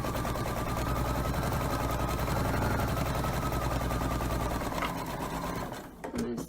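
A sewing machine runs loud and close, stitching around a memory pillow in one long continuous burst that slows and stops near the end with a few small clicks.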